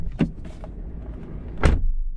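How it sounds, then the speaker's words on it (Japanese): Door of a Jeep Grand Cherokee Trackhawk SUV swings and shuts with one solid, heavy thud near the end, preceded by a lighter click of the handle or latch. "ほらドアバチンって閉まる、"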